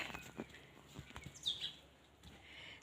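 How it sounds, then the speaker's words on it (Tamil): Small bird chirps, a sparrow's short tweets, sound faintly at a distance over a soft outdoor background, with a few scattered clicks and rustles. "இங்கே மேலே பாரு சிட்டுக்குருவி பாரு"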